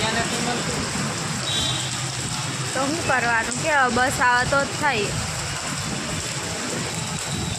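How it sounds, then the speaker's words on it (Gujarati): Heavy rain falling in Baroda, a steady hiss and patter that runs throughout while someone speaks briefly over it in the middle. "બરોડામાં તો ફૂલ વરસાદ ચાલુ જ છે"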